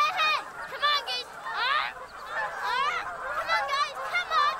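Several geese honk repeatedly in loud, overlapping bursts at close range, with a few brief pauses between calls.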